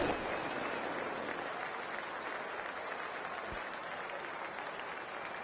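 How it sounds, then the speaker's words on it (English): A large crowd in a cricket stadium at the start of a first-class match in the Cricket 24 video game applauds and cheers in a steady, dense wash of clapping that holds evenly from start to end. "We're about to get underway and already the crowd is up and about."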